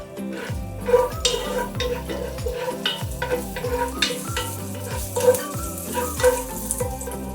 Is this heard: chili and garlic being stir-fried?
yes